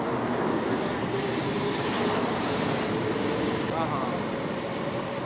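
A steady, loud rushing roar of a Taiwan high-speed train in motion in 2007, sustained throughout with broadband rumble.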